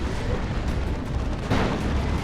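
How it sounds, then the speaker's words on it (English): Rumbling explosions from a Manticore rocket strike in Dawn of War 2, a dense, continuous barrage of booms with a heavier burst near the end, loud and sustained throughout. "Was that a rocket run there? I think it was. Manticore Strike."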